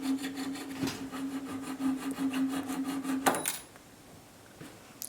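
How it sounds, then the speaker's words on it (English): A hand file rasps in quick, uneven strokes as it shaves down wooden banjo parts, close and dry, with a steady faint tone beneath; a sharp knock sounds near the end before the filing stops and the room goes quiet. "You can see I'm using the file, shaving them down to match."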